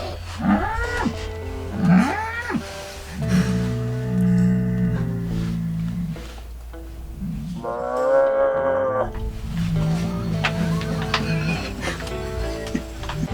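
Cows mooing on open country, several long low drawn-out moos with some rising calls, near and loud, separated by short pauses over faint background noise.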